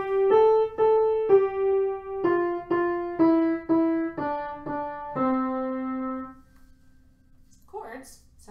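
A single-line melody of about ten plucked or struck notes rings out clearly, one at a time, in a steady stepwise rhythm before the last note sustains and fades, followed by a brief voice.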